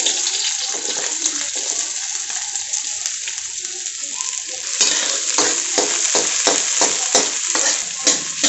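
Onion fried in a pan with green cardamom and cloves, a dense sizzle that swells loud as the onion goes in, followed by rhythmic stirring scrapes, close and without speech.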